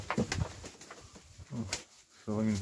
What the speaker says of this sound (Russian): Вот молодой голубенок.